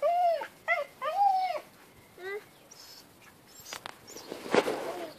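Dogs in a home garden give several high, rising whines and yelps in the first seconds, then softer scuffling movement and rustling noise, with a voice talking briefly near the dogs.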